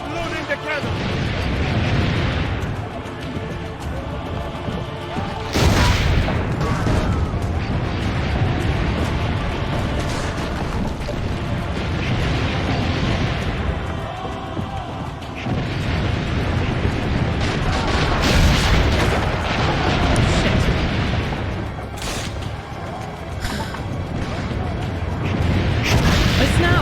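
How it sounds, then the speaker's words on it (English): Cannon fire in the video game Assassin's Creed Brotherhood comes as several heavy booming blasts spaced seconds apart amid constant battle noise, with people talking loudly over it throughout. "Keep loading the cannon!"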